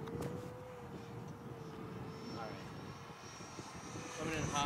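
An E-flite Viper 70mm electric ducted fan model jet flying overhead, a steady whining whoosh at moderate distance with a tonal whine that rises near the end, with people talking faintly in the background.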